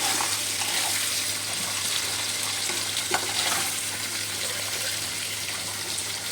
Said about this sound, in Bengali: ভালোভাবে ক্যাপসিকামটা একটু ভেজে নেব